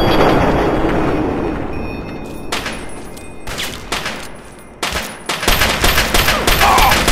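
Rapid bursts of Chinese pistol gunfire in the video game Fallout 3, loud and close, with sharp repeated shots clustering in the second half over a constant rumbling game background.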